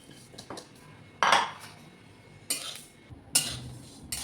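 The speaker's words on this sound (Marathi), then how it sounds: "तर आपण याच्यामध्ये तीळ घालूया।" Sesame seeds roasted over low heat in a thick kadhai, a spoon or ladle clinking against the metal in a few separate sharp scrapes and taps, close and fairly quiet, with no talking.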